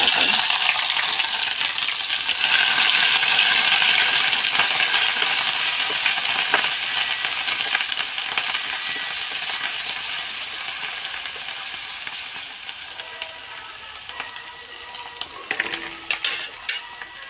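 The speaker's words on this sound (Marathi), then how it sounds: "आता याच तेलामध्ये मी फोडणी पण देऊन घेते." Spices tempered in hot oil left over from frying, a loud hissing sizzle that slowly eases off, ending with a few light metallic clinks of utensils against the pan.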